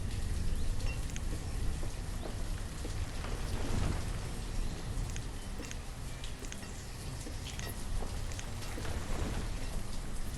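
Rain falls in the Banished city-building game as a steady, dense patter of drops. A few louder rumbles and crackles come through, and the whole thing plays at a fairly low level with no talking.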